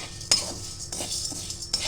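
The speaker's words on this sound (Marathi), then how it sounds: "आम्ही नेहमी डाळ भाजूनच लाडू करतो आता ही भाजून घेणार" Gram dal being dry-roasted in a pan, stirred with a metal spoon: sharp scraping clinks of utensil against pan at irregular intervals over a soft steady background, close and moderately loud.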